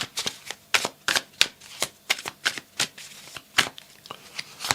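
Tarot cards are shuffled and one is drawn, giving a quick run of crisp, close riffles and flicks that come in steady bursts with soft gaps between them, and no voice over them.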